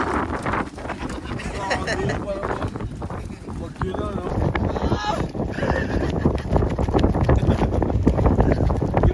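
Steady wind roars and buffets the microphone outdoors in Batangas, with people talking and calling out over it throughout.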